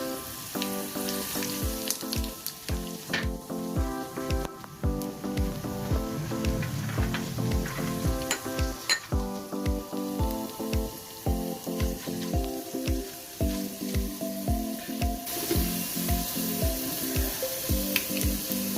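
Mustard seeds, cumin, chana dal and urad dal fry in hot oil for a Telugu chutney tempering, a steady close sizzle with constant crackle and spatter.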